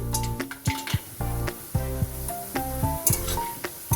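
A handful of peanuts fries in hot oil, crackling steadily while a utensil scrapes and knocks against the pan in a quick, regular rhythm, close and fairly loud.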